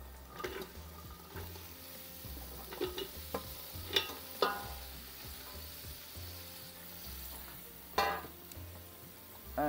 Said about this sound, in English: the masalas has been frying